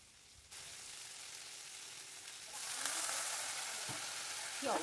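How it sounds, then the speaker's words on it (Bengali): Ginger and green chili paste fries in hot oil while being stirred, a steady close sizzle that swells louder partway through, with a few scraping stirs near the end. "আদা কাঁচা লঙ্কা বাটা দিয়ে একটু নাড়াচাড়া করে নিচ্ছি"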